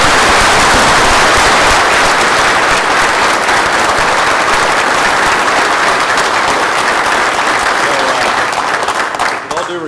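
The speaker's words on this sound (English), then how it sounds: "let's give applause to your families more than anyone else" A large gathering honoring soldiers' families breaks into sustained, dense applause, loud and close, holding steady for the whole stretch and tapering slightly at the end.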